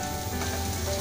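Chopped tomatoes and ground spices including black pepper and salt frying together in a pan for keema parathas, a brief dense hiss of sizzling up close with no speech.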